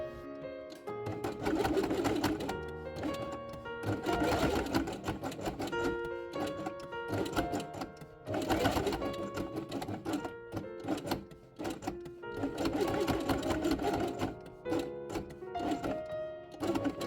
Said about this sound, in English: Next 3 elements place on felt in the same color and sew along the edge.